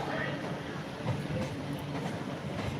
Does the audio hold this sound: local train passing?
yes